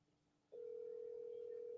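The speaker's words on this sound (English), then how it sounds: "Mo, can you hear the phone ringing?" An outgoing phone call produces a steady, continuous ringback tone that begins abruptly and holds on alone, clear and moderately loud.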